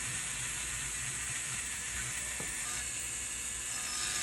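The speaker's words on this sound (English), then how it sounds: "You can see how it's really polishing that up." A blue silicone polishing wheel spins against a scratched surface, making a constant, close hiss with a faint mechanical whir and a brief scrape partway through, with no voices.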